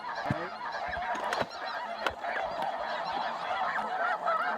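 Snow geese honk in a dense, overlapping chorus during a spring hunt in Canada, a steady flock clamor with a few sharper calls, loud and continuous, with no talking.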